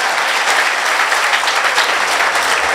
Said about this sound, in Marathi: एकदा तुम्ही तुमच्यासाठी टाळ्या वाजवा